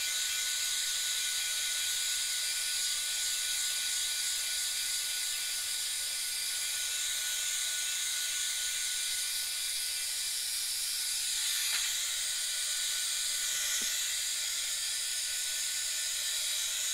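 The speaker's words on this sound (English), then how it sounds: "I'm hitting that with the dryer because I don't want to risk running the tip of a pen." A heat dryer blows over ink on a mandala drawing, giving a steady, close, hissing whir of air that runs unbroken throughout with no speech.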